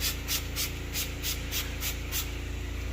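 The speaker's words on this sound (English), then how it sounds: "I like to spray everything down real quick" Cleaner sprayed around a house during cleaning, a quick series of about eight short, close spritzing hisses in an even rhythm.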